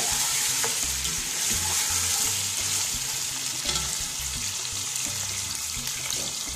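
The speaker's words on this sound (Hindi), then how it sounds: "तो मैंने 2 मिनट इसको फ्राई कर लिया।" Chicken frying in a pan for a white korma gives a continuous close sizzle with occasional stirring, steady and fairly loud, with no talking.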